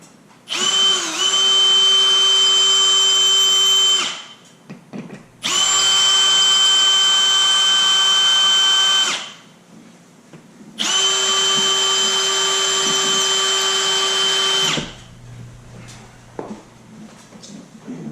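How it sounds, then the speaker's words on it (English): A power drill runs in three long bursts of steady whining, each lasting several seconds, separated by short pauses, close and loud while installing a Dolby Atmos media room speaker setup. "So we're going to take our drill and get this relatively close."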